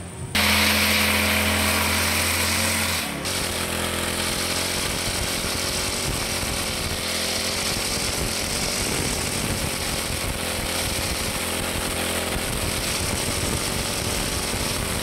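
A push-type engine grass cutter starts loud, then settles into a steady buzzing engine drone with a harsh rattling tone, running alone without talking.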